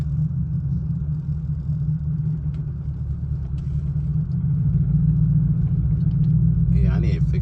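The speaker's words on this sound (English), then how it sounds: "Those wheel bearings, man. It's really bad." Worn wheel bearings on a Jaguar XJR on the move, a steady low droning rumble that grows slightly louder toward the end, blended with continuous road and engine noise.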